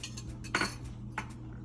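Metal spoon scraping and clinking against a pot while rice and peas are stirred, two distinct scrapes over a low steady hum.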